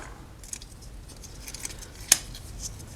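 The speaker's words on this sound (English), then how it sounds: "then you're going to want to cut this with a scissors" A single sharp snip of scissors cutting through photographic film, with a couple of fainter snips and rustles around it.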